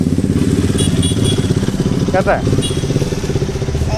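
A motorcycle engine runs nearby with a steady, throbbing low idle and some clatter, while people talk over it.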